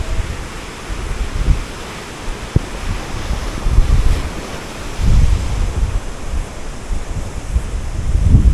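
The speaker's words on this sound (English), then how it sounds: "Some pretty mint waves here." Ocean waves roll in and break over shallow rocks at Waihi Beach, several surges of loud rushing surf rising and falling over a constant wind-buffeted roar, with no talking.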